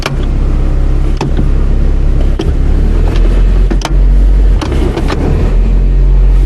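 A 1997 Toyota Corolla with an automatic transmission idling loudly and steadily while the shifter is moved through the gears, with several sharp clicks and knocks from the gear changes over the engine rumble.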